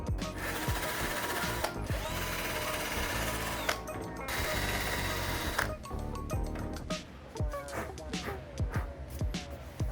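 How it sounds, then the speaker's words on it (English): A power drill whirs steadily with a wire brush scraping and grinding rust off a Toyota Corolla KE70's metal, broken by short pauses and rattling bursts, loud and close. "I'm using the wire brush to rub off the rust area first"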